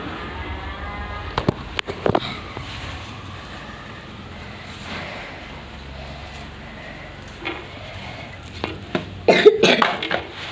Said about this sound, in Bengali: আমার একটু কাশি হয়ে গেছে